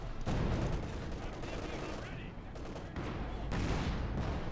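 Gunfire in the Company of Heroes 2 real-time strategy battle, a dense crackle of rapid shots and bursts that runs throughout, with a busier volley near the end.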